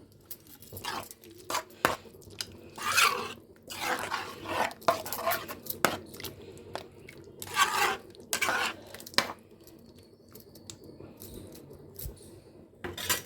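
Fried cauliflower pieces tipped into a simmering pan of gravy, with scattered clinks and scrapes of a spoon against the pan and soft stirring, moderately close and fairly quiet, no talking.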